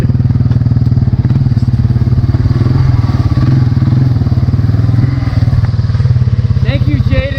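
A four-wheeler ATV on an off-road trail ride, its engine running close and loud with a steady, throbbing idle that never stops, plus a few light clatters.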